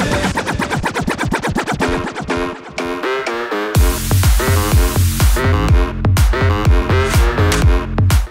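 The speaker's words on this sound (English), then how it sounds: "Start applying the echo." Rhythmic DJ pad scratching on a Pioneer DDJ-SB3 controller over a playing track, choppy repeated cuts with an echo effect trailing out before a heavy beat drops in; loud and continuous with no talk.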